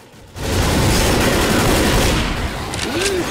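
Sustained heavy gunfire at the tank in the video game Left 4 Dead, a loud continuous roar of overlapping shots that swells after a quiet start and holds steady, with occasional voices in the mix.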